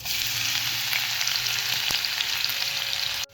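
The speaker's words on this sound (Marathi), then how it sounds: "तेल गरम झाले मोहरी टाकून घेऊया जिरे आणि लसूण" Mustard seeds, cumin and garlic sizzle loudly in hot oil, a dense continuous crackling fry close by that cuts off abruptly at the end, no voices.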